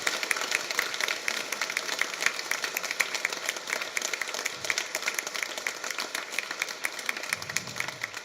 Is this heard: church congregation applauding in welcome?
yes